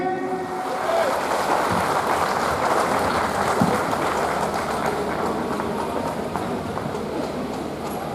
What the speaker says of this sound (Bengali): প্রত্যেকে একটু হাততালি লাগান।